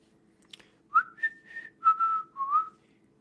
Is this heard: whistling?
yes